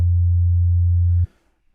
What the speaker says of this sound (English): the first one, when you know it, is a sine wave, which is your basis for an 808 bass